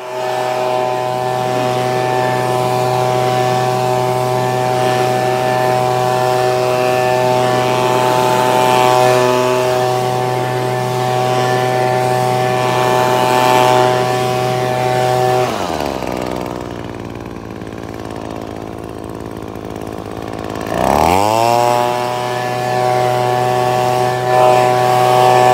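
An Echo PB2520 leaf blower with cruise control runs loud and close, a steady droning whine that drops away mid-way and then revs back up, with no one talking.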